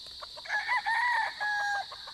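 A gamecock stag crows nearby, a loud, drawn-out call in several stretched segments, standing out clearly against quiet background noise.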